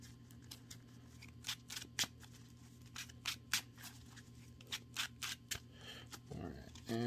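Trading cards from a Dragon Link Chaos MAX dynamic-duel deck being shuffled and cut by hand, a run of crisp riffling bursts spaced irregularly over a steady low hum.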